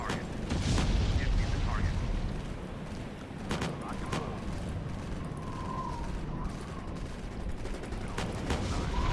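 Tank destroyed by explosions in War Zone Middle East, a real-time strategy war game, with several sharp blasts amid rattling gunfire and mechanical clatter over a constant battle din, and voices faintly underneath.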